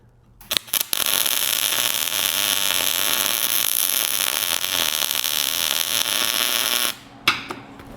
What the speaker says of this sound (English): You hear the sound of that weld?